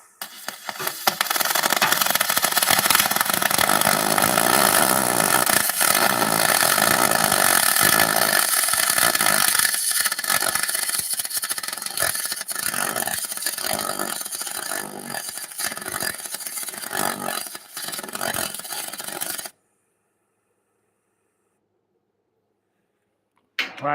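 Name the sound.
single pulse MIG welding on aluminum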